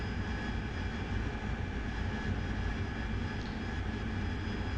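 AV-8B Harrier jet in the DCS flight simulator, flying low through valleys, a steady broad roar of engine and wind heard from the cockpit, constant and unbroken with no voices.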